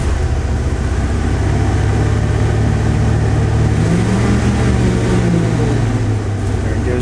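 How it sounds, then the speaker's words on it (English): A Ford 460 V8 in an HR Vacationer motorhome revs hard, then stumbles and breaks up under load. The engine drones steadily and loudly throughout, with a rising, wavering tone partway through and no talk over it. "If I punch it, it takes off and then starts breaking up."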